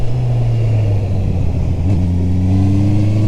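A Honda CB650R motorcycle's engine is loud and close, holding a steady drone before the revs climb smoothly under fresh throttle.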